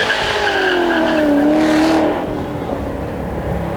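Ford supercar with a V8 engine at speed on a race track, a loud sustained roar sweeping downward in pitch as it passes close by, then fading to a lower rumble.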